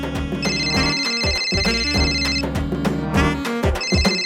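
A telephone rings insistently, its electronic ringtone repeating in bursts over a steady background, loud and close.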